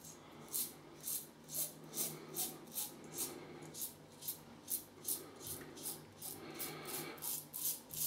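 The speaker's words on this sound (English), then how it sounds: "it's blitzing through this stubble" A Standard Razor shaving through stubble, with about a dozen short, crisp rasping strokes in steady rhythm, close and quiet, with no talking.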